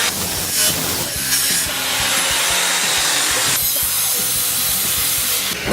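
Metal on a scooter frame is being cut down during an electric scooter's conversion to a petrol engine, giving a continuous harsh, close grinding rasp with an uneven, slightly pulsing texture for several seconds.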